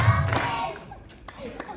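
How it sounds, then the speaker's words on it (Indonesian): Children clap their hands during a gathering at an Islamic boarding school in Kudus: a few sharp, separate claps ring out close by amid children's voices. "tepuk satu, tepuk dua"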